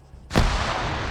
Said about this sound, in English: That grenade goes up.